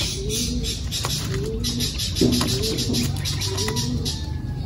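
Young pigeons cooing in a loft, several soft repeated low coos close by over a steady background hum, with a few light rustles between calls.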